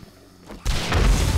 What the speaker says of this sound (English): throw four or five of these down and then ignite them with a nade